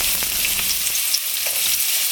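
Onions fry in a pan for a gongura and mutton boti curry, a close, busy sizzle with small crackles that cuts off sharply near the end, with no speech.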